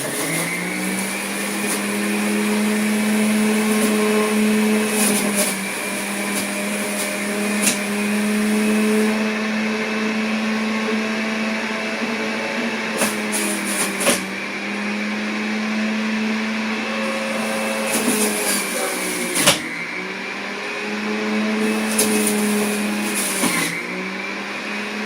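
A countertop juice machine grinds two carrots, a steady loud motorized whine with a low hum running throughout, punctuated by brief clunks and strains as the pulp feeds through, with no talking.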